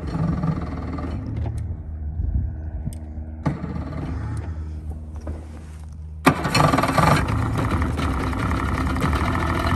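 Small two-stroke outboard motor on a boat idles steadily, with a sharp jump in level partway through as the engine revs, then a sustained louder run.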